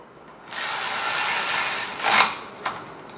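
A bolt is run down to hold a brake rotor onto the front hub of a Ford Taurus, a steady whirring tool sound lasting a couple of seconds with a brief louder ratcheting burst near the end, close and alone.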